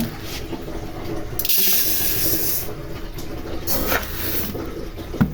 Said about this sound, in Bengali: চালগুলো নিয়ে এখন ধুয়ে নেব।